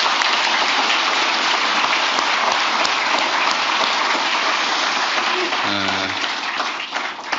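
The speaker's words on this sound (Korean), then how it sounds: "우리 동료들을 위해서 박수 한번 부탁드립니다" Loud, dense applause from a large audience at a senior public officials' workshop lecture in Korea, a steady wash of clapping that holds for the whole stretch with a brief voice near the end.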